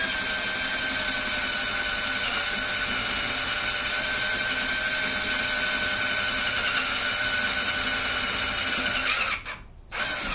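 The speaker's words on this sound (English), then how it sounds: "That's why the drill's trying to hang up now." A power drill bores slowly through wood while building a mandocello, a steady sustained whine with strain that runs for most of the clip before cutting out near the end, loud and close.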